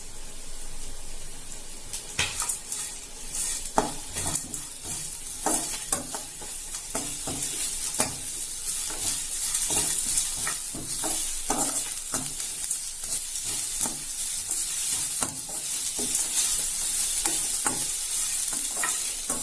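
Cumin, fennel, poppy seeds, cinnamon, black pepper, cashews, curry leaves and coconut dry-roast in a pan for a Tamil chicken salna, with steady light sizzling and frequent scraping, stirring strokes throughout, no voices.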